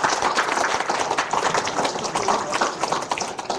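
Audience at a special lecture by former president Kim Dae-jung clapping, a dense burst of applause close by that fades slightly toward the end.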